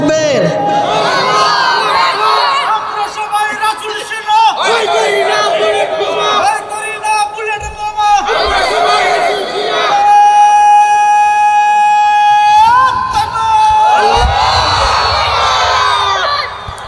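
A large crowd at a religious gathering chants slogans loudly in unison, several rhythmic bursts of massed voices with a lead voice between them, echoing in a big open space.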